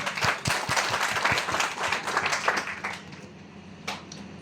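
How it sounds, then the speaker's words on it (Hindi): An audience applauds at a live product presentation event. The clapping is dense and steady for about three seconds, then thins out and fades, with a final lone burst near the end. "जोरदार तालियां।"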